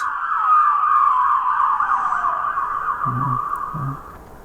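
A police siren from a Gaugemaster Scenic sound module for a model railway layout wails steadily in a rising and falling sweep, loud and close, with two short low thumps near the end.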